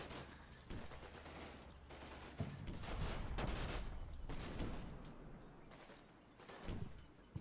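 Mortar fire and explosions in Combat Mission: Battle for Normandy boom repeatedly at irregular intervals, several heavy thuds and bursts of distant, rumbling gunfire overlapping through the scene.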